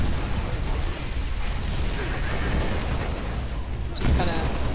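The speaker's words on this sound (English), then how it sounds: "I'm gonna use this plasma cannon here" A plasma cannon fires in the Halo: Reach Firefight mode, a dense, unbroken roar of loud weapon fire and explosions that swells again near the end.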